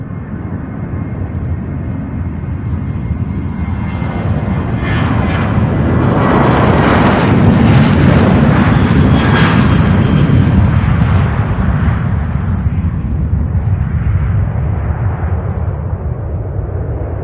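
A Southwest Boeing 737 takes off at Louisville airport, its roar swelling from a low rumble to a loud, broad blast at the peak, then slowly easing as it climbs away.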